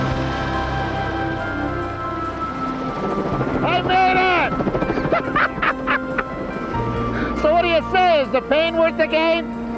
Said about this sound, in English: This is a heli ski area, so they use the helicopter to replace the lift line